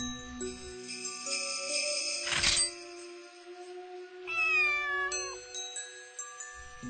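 A cat meows repeatedly in clear, rising and wavering cries, close and fairly loud, with a faint jingle and a short sharp noise partway through.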